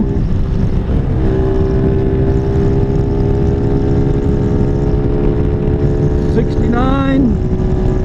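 Venom SS3 or KP mini 150 mini bike engine running hard on an interstate, a loud sustained high-revving drone with steady wind rush, rising in pitch near the end as it revs up, close to the rider.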